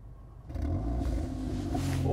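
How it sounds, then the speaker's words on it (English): A 2022 Volkswagen Golf R engine fires up about half a second in, its low rumble swelling into a steady, loud, close idle with no talking. "start the engine"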